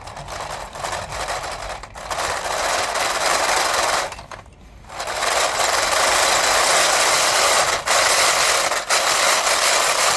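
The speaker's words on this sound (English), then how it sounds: "So that's what you get with playing with gears." Toy plastic gears from Learning Resources turn and whir in a loud, steady mechanical rattle that stops briefly, then resumes, with short breaks along the way.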